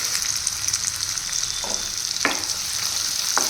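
Onions and curry leaves fry in oil with a loud, constant hiss, and a few light clicks sound from the pan.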